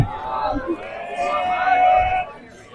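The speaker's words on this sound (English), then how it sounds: "And the crowd grows restless." A crowd of spectators at a high school varsity baseball game murmurs and calls out in the stands, a restless babble with a few raised shouts, heard under a commentator's voice.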